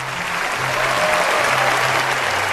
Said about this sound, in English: Finally, Susan, can we get a little round of applause for you now?